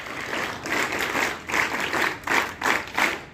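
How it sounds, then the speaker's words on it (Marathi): Children at a Constitution Day school gathering clap together in a swelling round of applause, dense and close with rhythmic surges, no speech over it. "तुम्ही स्वतःसाठी पहिल्यांदा एक जोरदार टाळ्या वाजवा."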